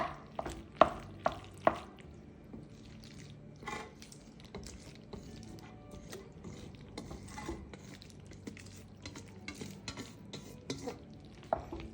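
Pasta and cheese sauce being stirred in a pot after a cup of pasta water is added, with wet scraping and clacking strokes near and fairly loud, several sharp knocks early, then steady irregular stirring.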